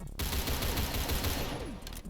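Fully automatic rifle fire in Phantom Forces at about 400 rounds per minute, a fast continuous string of shots that fills the whole moment at moderate loudness, no talking.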